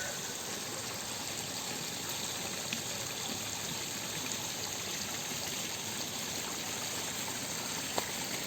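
A stream flowing beside rice fields in a hilly Sundanese village, a steady, even rush of water with a faint trickling texture and no voices over it.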